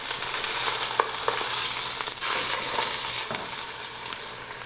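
A sous vide New York strip steak searing in a hot pan, a loud, continuous sizzle and fry crackle heard close up with a few sharper pops, no voices.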